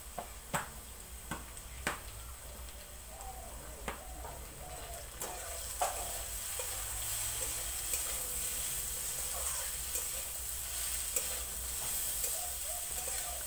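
Potato curry with salt and turmeric frying in a pan, a continuous bright sizzle with repeated spoon scrapes and taps as it is stirred, fairly close with no talking.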